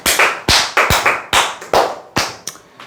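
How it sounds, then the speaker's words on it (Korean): Sharp, separate claps at a Korean sales and call-center training talk, about nine in uneven rhythm over three seconds, sounding like a small group or a few people rather than full applause. "박수 한번 치시죠."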